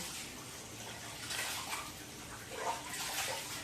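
Water from a bowl of washed rice being tipped out in a home kitchen while preparing biryani, a soft, steady pour and splash with slightly louder swells near the end, fairly close and without talk.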